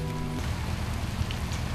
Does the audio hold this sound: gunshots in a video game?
no